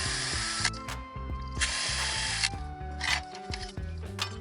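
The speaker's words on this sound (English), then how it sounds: "I'm using an angled drill to do this" An angled drill bores mounting holes for the grill of a Volkswagen Golf R Mk7, whirring in repeated short bursts with ratcheting clicks between them, close and fairly loud.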